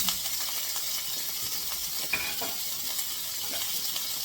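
Onions fry in a pot for Ghanaian stew, giving a steady, close sizzle and crackling hiss with a faint clink partway through and no talk.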